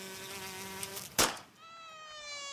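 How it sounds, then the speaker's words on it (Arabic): A housefly buzzes close by with a steady whining drone, broken by a sharp slap or impact partway through, after which the high, thin buzz resumes at a slightly different pitch. "دي دبانة موتها بتضايقني"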